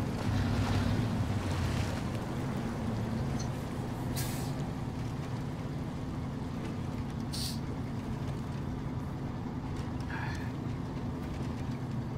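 Heavy truck in SnowRunner pushing through water on a ridge, a steady low rumble with sloshing and splashing throughout, plus a few brief hissing bursts, with no talking.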